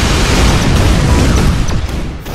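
A bouncy ball shot explodes in the ShellShock Live artillery game: a loud, dense burst of noise held steady for about two seconds, then thinning out toward the end, with no talking over it.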